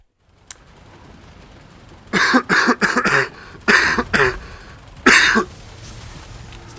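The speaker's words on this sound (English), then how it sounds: "Still coughing." A series of harsh coughs in several bursts, close and loud, separated by brief pauses over a quiet background.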